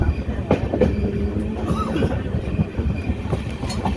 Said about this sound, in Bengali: স্লোলি ট্রেন চলছে।